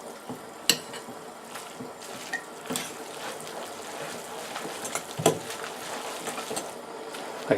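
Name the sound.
stirring omuramen ingredients together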